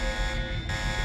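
A security alarm buzzes inside the video game Deus Ex, a steady, harsh electronic drone with a constant pitch that carries on unbroken at moderate volume.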